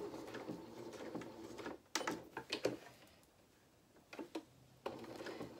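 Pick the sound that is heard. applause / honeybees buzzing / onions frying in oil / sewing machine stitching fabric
sewing machine stitching fabric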